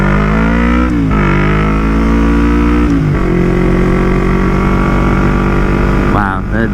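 Yamaha MT-03 motorcycle fitted with a full Akrapovic exhaust downshifting, its engine note rising in sharp blips and falling back in a loud, continuous drone close by, with no talking.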